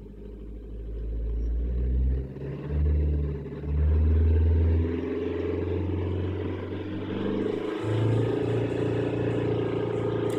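A 100 hp VW Golf 1.9 TDI PD diesel engine revs up toward 3000 RPM, its deep rumble swelling in uneven surges and then settling back, heard close and steady with no talking.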